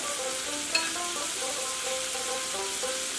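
Shrimp dropped into hot mustard oil set off a brief splashy burst, then a bright, steady sizzle with scattered bubbling crackles, heard up close with no talking.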